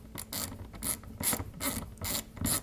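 Rapid ratcheting clicks as a hand tool drives new Torx fasteners into a diesel FICM power supply, a quiet mechanical series of short bursts with brief pauses, close by.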